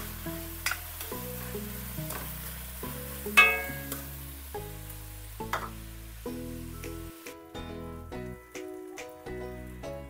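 Chopped tomatoes sauté in a pan for sinigang sa miso with mayamaya fish, giving a soft steady sizzle broken by occasional stirring scrapes and taps, with quiet music underneath and no talking.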